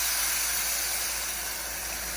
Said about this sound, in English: So it's sizzling.